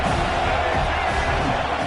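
Football stadium crowd at an Alabama versus Auburn game, a dense continuous roar of cheering and noise filling the whole short stretch, no clear speech.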